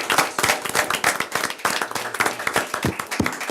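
An audience at a city council meeting in Brawley breaks into steady clapping, many hands applauding together in a dense, moderately loud burst.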